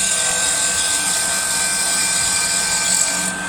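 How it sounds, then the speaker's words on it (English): A woodturning tool cuts straight across spinning wood on a lathe, giving a steady, loud, high whirring scrape that holds evenly throughout before easing off right at the end. "Cutting across. Same again, tool handle down, lifting up to the cutting."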